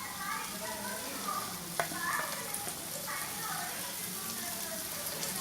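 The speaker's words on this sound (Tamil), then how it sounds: "நல்லா ஆயில் விட்டு ஃப்ரை பண்ணிக்கணும்." Barramundi (koduva) fish frying in plenty of oil gives off a steady, dense sizzle with a few small pops and crackles, close and continuous throughout.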